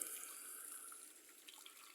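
Liquid stock made from stock cubes streams steadily into a cooking pot, a brief, faint, hissing pour heard alone.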